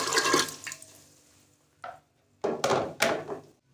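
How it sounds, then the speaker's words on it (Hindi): Water pours briefly into a pressure cooker holding soaked chickpeas, a short splashy gush, followed by several hollow metal knocks and clunks from the pot nearby. "साथ ही हम इसमें 3 कप पानी डालेंगे।"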